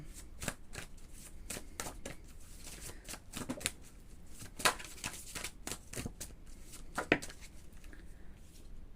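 Oracle cards are shuffled and drawn close by, a steady run of crisp riffling flicks and soft slaps with a few sharper snaps, without any talking.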